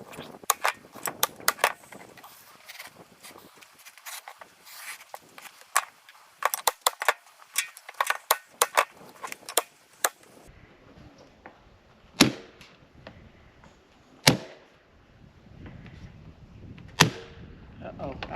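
Staple gun driving staples through fabric into a wooden speaker box, a rapid run of sharp snapping shots early on, then a few spaced, heavier clacks with rustling handling between.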